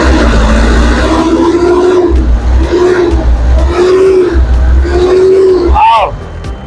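A Mazda Bongo single cab's R2 2.2 diesel engine idles with a deep, continuous low rumble and a wavering whine above it, heard close and loud.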